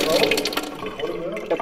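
Water rushes from a newly installed tap in a hall, a short splashing flow heard under excited speaking voices.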